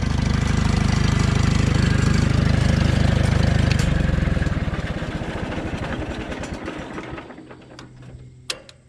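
An old tractor engine idles with a steady low throbbing rumble that gradually softens and slows over several seconds, ending with a sharp click near the close.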